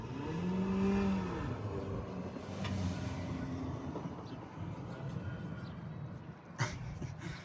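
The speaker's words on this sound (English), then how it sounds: "we're trying to show off in that little car" A small car revving to show off, its engine rising and falling in pitch nearby over broadband road rumble, with a sharp knock near the end.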